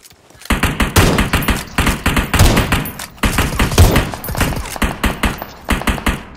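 Rapid automatic gunfire in a battle royale video game: close, loud bursts of shots in a fast, even rhythm, broken by one brief pause midway, with almost no talking.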